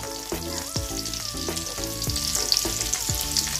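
Garlic frying in a pan while cooking komda baji, a steady sizzle under a louder musical backing with a regular beat.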